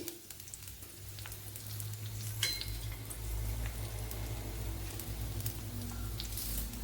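Ginger, green chilies and garlic fry in a pan with a steady sizzle and crackle that swells after a few seconds, with occasional light clinks and no talking.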